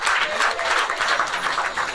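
Brief, lively applause from a small audience, steady clapping throughout without a break.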